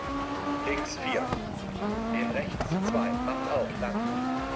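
Peugeot AX4 rally car in the DIRT 4 racing game, its engine droning in rising and falling pitch with squealing tire skids through corners, continuous and close, with someone talking over it.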